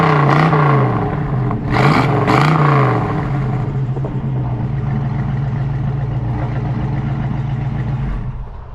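A 1965 Mustang Fastback with MagnaFlow dual exhaust revs up twice in quick blips, then settles into a steady, loud, close rumbling idle that cuts off near the end.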